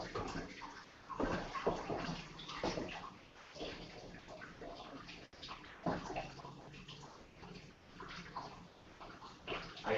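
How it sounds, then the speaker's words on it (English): Water running steadily in a home kitchen, a soft continuous wash with irregular splashes and clatter rising and falling, faint and somewhat distant. "I hear the water."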